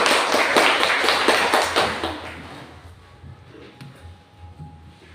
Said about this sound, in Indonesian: Hadir semua, tepuk tangan.